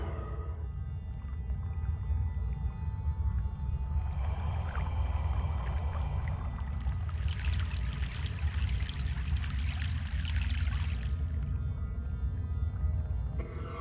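A boat crossing a river in Broken Sword 3 makes a low, steady rumble with sloshing water, and a hissing splash swells in the middle before settling.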